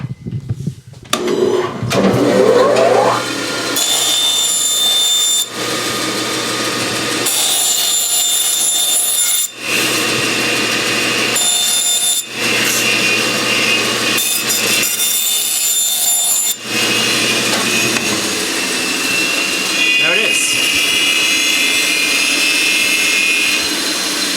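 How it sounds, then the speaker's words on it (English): A bandsaw cuts wood for a guitar head plate with a loud, steady whine broken into several cutting passes by brief pauses, close up. "And then we're going to cut that on the bandsaw."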